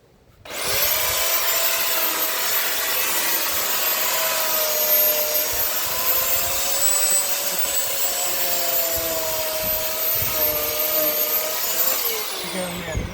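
A chainsaw cutting a cordyline australis palm runs steadily at high revs for about twelve seconds, loud and close, with a continuous buzzing drone that cuts off at the end.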